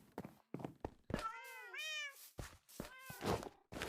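Cats meowing in the Minecraft video game, several drawn-out, pitch-bending meows in quick succession, close and clear with short pauses between calls and no talk over them.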